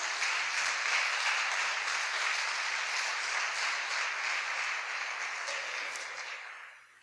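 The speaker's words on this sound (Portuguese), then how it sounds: "Aí você pode aplaudir Jesus" Church congregation applauding during a sermon, a sustained, fairly distant wash of clapping that holds steady and then fades out at the end.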